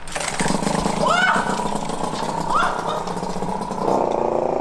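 A moped engine being run-started without pedals sputters and revs close by in uneven bursts, its pitch rising and falling, with people talking over it.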